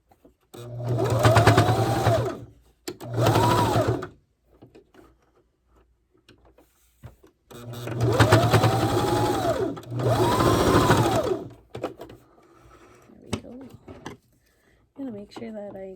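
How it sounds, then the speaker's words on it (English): Sewing machine stitching ribbon onto a skirt, running in several short whirring bursts separated by pauses, close and fairly loud, with a person talking between and over the runs. "I noticed that over here it didn't sew, so I'm gonna just pass it through the machine."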